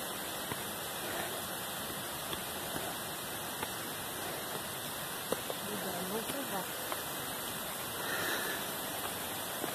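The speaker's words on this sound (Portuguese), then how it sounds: "Lá está o barulho da cachoeira que a gente não consegue ver" A steady broadband rush of an unseen waterfall fills the background, constant and fairly distant, with faint voices and footsteps passing over it on a forest trail in Morrinhos do Sul, Brazil.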